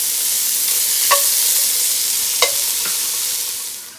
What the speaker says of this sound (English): We're going to go ahead and add our bacon in. We're going to let this brown and kind of cook down just a little bit.